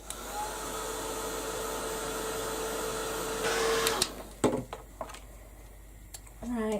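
A hand-held dryer blows steadily over a craft journal page for about four seconds, then shuts off, leaving faint clicks and handling sounds.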